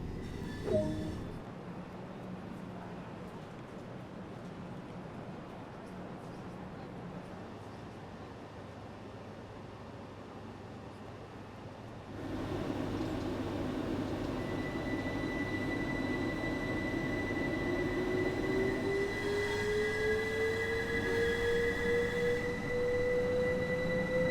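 A train in Train Sim World 2 pulls away from Lewes on the East Coastway line between Brighton and Eastbourne. A steady rumble swells as it gets under way, and a rising electric whine builds through the second half.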